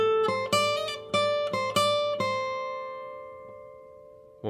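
Solo jazz guitar plays the first section of a lick: a quick run of about eight clear picked notes, then a final note left ringing and slowly fading, with a faint pluck at the very end.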